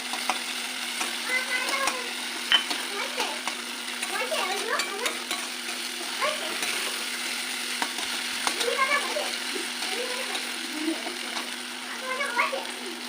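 Spice paste (masala) for egg tarka fries in a pan, giving a steady close sizzle with scraping stirring sounds and spatters, while a person talks over it.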